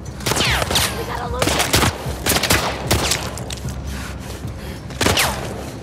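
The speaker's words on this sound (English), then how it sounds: "Just shoot them!" Rapid gunfire from The Last of Us Part II, with bursts of loud close shots crackling in quick succession throughout, mixed with shouting voices.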